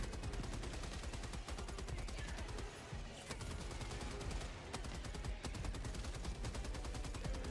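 A heavy machine gun emplacement in Helldivers 2 fires a long, continuous rapid burst, dense and steady throughout, with only brief dips in the stream of shots.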